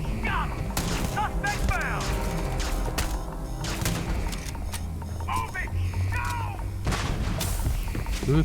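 Gunfire and a grenade blast in the sci-fi game Starfield, with repeated sharp shots and heavy thuds throughout a busy firefight, voices talking over the combat.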